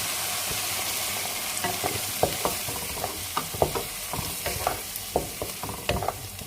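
A prawn dish simmering in coconut milk sizzles steadily as a spoon stirs it, with a run of irregular scraping clicks against the pan over a constant frying hiss.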